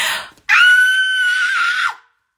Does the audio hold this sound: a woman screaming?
yes